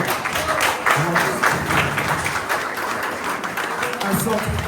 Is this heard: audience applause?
yes